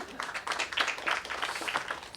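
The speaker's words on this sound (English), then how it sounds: "Go ahead, we can clap." Audience applause at a ferry renaming ceremony, a steady round of clapping from a moderate crowd lasting the whole stretch, heard from a short distance.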